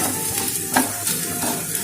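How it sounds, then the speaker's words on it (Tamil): Spices with turmeric and salt frying in a hot pan for chicken roll, a steady close hiss and crackle with occasional scraping stirs, no talking. "இது வந்து நல்லா இன்னும் கொஞ்சம் லைட்டாக ஃப்ரை பண்ணிவிட்டு"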